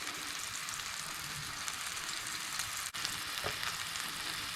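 Onion frying on medium-high heat for an Aussie burger, giving a steady, close hiss and crackle of sizzling oil with one brief stir partway through.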